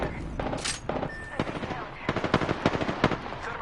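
Bursts of automatic gunfire strike the player's character in Apex Legends, a rapid crackle of shots in uneven clusters, loud and close, with a few short impacts early and denser volleys in the second half.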